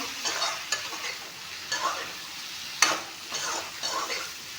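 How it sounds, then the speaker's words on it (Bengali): Spices frying for a mutton curry crackle in a pan as a spoon stirs and scrapes in several rhythmic bursts over a soft sizzle, close by and without speech. "এয়া চব মছলাখিনি দি অলপমান ভাজি ল'লোঁ"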